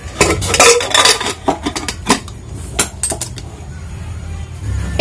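Metal pressure cooker pot clinking and clattering as it is handled in a home kitchen, sharp knocks and clanks in quick bursts, close and fairly loud.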